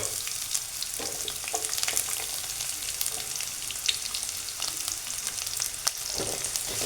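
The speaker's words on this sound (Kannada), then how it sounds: "ಎಲ್ಲ ಫ್ರೈ ಆಗ್ತಿದ್ದಂಗೆ ನಾನೀಗ ಉಳ್ಳಾಗಡ್ಡಿ ಹಾಕೋತೀನಿ" Onions frying in a pan for tomato rice, a steady close sizzle with scattered crackles and pops and occasional scraping of a stirring spoon, no talking.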